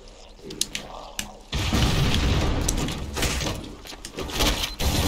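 A rocket launcher blast in the video game Halo CE booms loudly and fills the mix with a sustained roar after a few quieter clicks, followed by further rumbling and bangs.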